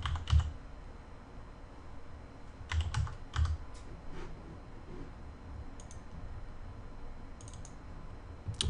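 Keys on a computer keyboard clatter in short, quiet bursts of typing separated by pauses, close by in an otherwise still room with no voices.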